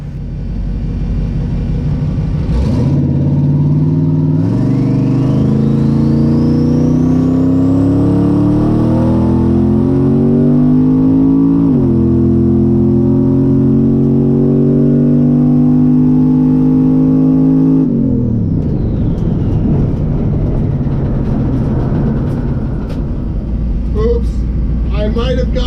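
Twin turbo Camaro making a drag racing pass, engine roaring up through rising pitch sweeps with audible gear changes and turbo whine, loud and continuous before easing off near the end.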